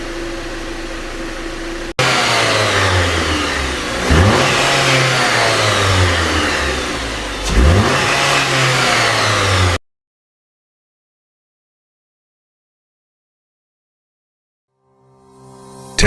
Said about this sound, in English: So we're going to give it some high revs and release and try and force the noise to come.